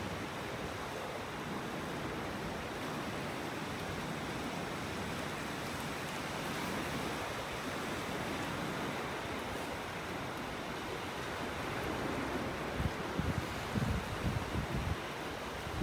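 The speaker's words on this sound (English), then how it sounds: "A lot of beach here right now." Surf washing onto a wide beach at low tide in North Naples, Florida, heard as a steady broadband wash close by, with slightly stronger rushes near the end and no voices.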